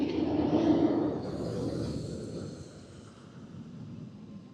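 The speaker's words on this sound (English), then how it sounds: "here comes the train from the swing launch" A loud rumbling roar of a passing roller coaster train at Universal Studios that peaks early, then slowly fades into a lower, steady rush.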